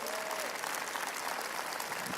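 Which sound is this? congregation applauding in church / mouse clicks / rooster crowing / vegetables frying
congregation applauding in church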